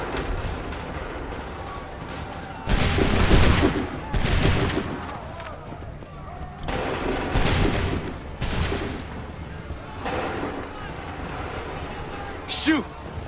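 Musket volleys in the Assassin's Creed III video game: several loud, ragged bursts of massed gunfire separated by quieter stretches, with voices shouting between and over the shots.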